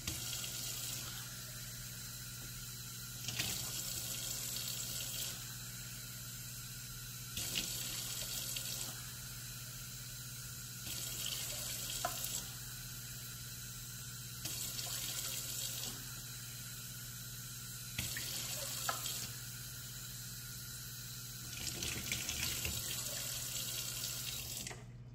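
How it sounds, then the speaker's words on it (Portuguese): Tap water pouring in bursts into a pot of rice being measured for Japanese gohan, each steady, hissing fill lasting a few seconds and separated by pauses, repeated about six times against a constant background hum. "Agora eu vou colocar a quantidade indicada de água, que são 6 medidas para essas 4 medidas de arroz."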